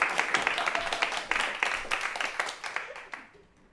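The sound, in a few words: studio audience applause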